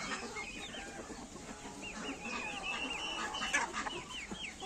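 Chickens cluck continuously in a morning farmyard where hens, ducks and turkeys of various breeds are kept, a dense overlapping chorus of calls at moderate distance with steady background noise.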